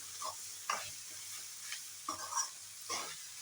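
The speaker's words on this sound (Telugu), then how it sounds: "అల్లం వెల్లుల్లి పేస్ట్ వేసి కలుపుతున్నాను." Ginger garlic paste being stirred into carrots frying in a pan, several quick scraping stirs over a soft sizzle, close and quiet, with no talking.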